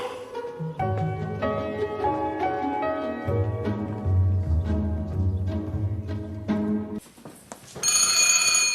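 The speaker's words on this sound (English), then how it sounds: "Mr. Carson's telephone is ringing." An old household telephone bell rings in an English country house in the early 1900s, heard alongside orchestral music, then turns brighter and louder in a final burst near the end.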